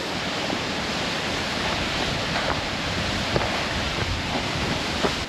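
Twin Falls waterfall in Idaho, heard from behind the falling water: a steady, loud, broadband roar of crashing water that never lets up, with some wind buffeting the microphone.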